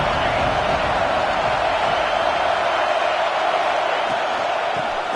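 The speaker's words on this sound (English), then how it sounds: "Man, this crowd really affecting the football game." A home crowd roars at a Florida State vs Florida college football game, a steady, loud wash of stadium noise with no breaks across the whole moment.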